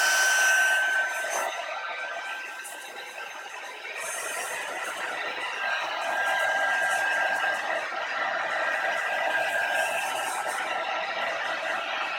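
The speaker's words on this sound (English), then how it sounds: "So you can just dry this with your heat gun or whatever. I'm just going to give it a quick blast." A heat gun blows a steady, close, breathy hiss and whir while drying craft paint, running continuously for the whole stretch with slight swells in loudness.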